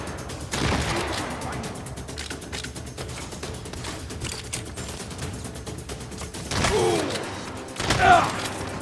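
In the Saints Row video game, gunfire aimed at the player rattles as a steady mid-level stream of shots under game sounds, swelling in louder bursts near the end while someone talks.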